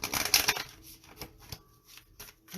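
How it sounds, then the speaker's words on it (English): Tarot cards being shuffled by hand, quick papery riffles and slaps in short bursts, close and fairly quiet. "I'm going to give this a little bit more shuffle"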